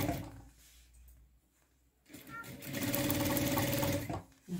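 An industrial sewing machine stitches a jacket pocket in a brief loud run of rapid mechanical whirring that starts after a quiet pause and ends with a short stop and restart, with a person speaking near the start.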